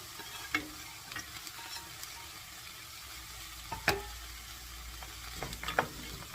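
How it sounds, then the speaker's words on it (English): Tomatoes and cashews frying in a pan for paneer butter masala, a soft continuous sizzle with occasional spoon scrapes and taps as they are stirred. "Now go ahead and add the tomatoes. Stir them."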